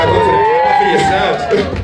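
A live audience cheering, whooping and making noise for a guest on a talk show, a loud steady crowd roar with a high sustained whoop running through it.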